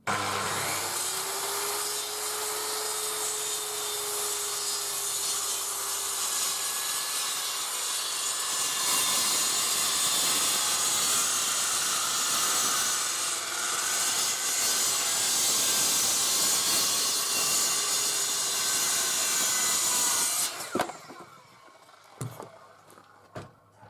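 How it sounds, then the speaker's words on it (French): A circular saw trims a wooden board flush on a timber roof frame for a straw-bale build, a loud sustained whining cut lasting about twenty seconds before the blade winds down to clatter. "il ne me reste plus qu'à affleurer avec la lame de ma circulaire la planche de bois"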